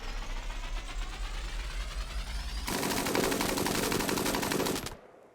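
Rapid machine-gun fire in an arena in the video game Rimworld, a dense rattling burst that swells louder midway, then cuts off abruptly near the end.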